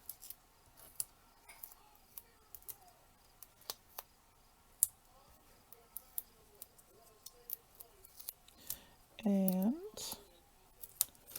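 Scissors snip through craft foam squares at a desk, a short close crunchy cutting burst near the end after scattered light clicks and handling taps, with brief speech.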